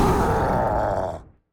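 A vocal grunt recorded as the slam move sound effect for a character in a multiplayer video game, one strained guttural effort lasting just over a second before cutting off, close and alone with no talk.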